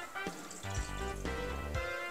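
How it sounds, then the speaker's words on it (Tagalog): Water is poured into a pot of udon broth from a tap or container, a close gurgling, resonant fill that rises in pitch over about two seconds, with no voices. "Lagyan din po natin siya ng tubig"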